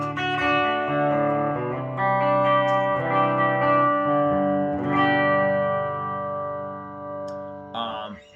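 An Ibanez JBM20 electric guitar through distortion rings out with sustained chords and ringing notes, loud and close, with a brief sharper strum near the end; no talking.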